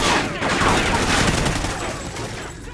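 Sustained automatic gunfire in a Call of Duty Ghosts campaign battle, loud and continuous for almost three seconds, with close rapid bursts blending together and slowly easing off.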